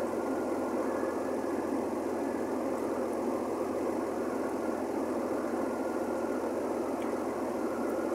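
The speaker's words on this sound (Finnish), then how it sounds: "Ison näköinen laiva." A large ship's engine passing beneath the Kallansilta bridge, a continuous deep rumbling drone with steady mechanical throb, loud and unbroken throughout with no voices.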